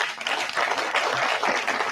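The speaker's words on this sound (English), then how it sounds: "let's clap for our panelists tonight" A live studio audience of young Kenyans applauds panelists at the close of a televised current-affairs discussion, a dense, steady wash of clapping filling the whole stretch at moderate loudness with no talk over it.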